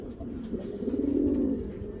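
A pair of silver Bagha pigeons coo close by, a soft throaty burble that swells into a louder rolling coo midway and then fades back down.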